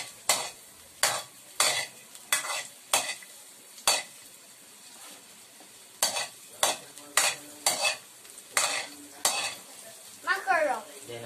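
Garlic sautéed in a pan for macaroni carbonara, with a spoon scraping and stirring in a quick series of sharp strokes over a faint sizzle, near and clear, with no talking.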